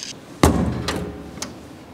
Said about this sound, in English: close your hatch for the weekend